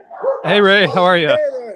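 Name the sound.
dogs barking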